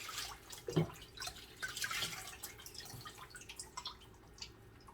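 Water drips from a mounted phalaenopsis orchid, a scatter of soft, close taps and trickles over a quiet room with no talking.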